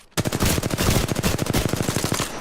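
Rapid automatic gunfire from an Apex Legends match, a loud, steady burst of evenly spaced shots running nearly two and a half seconds after a brief quiet start.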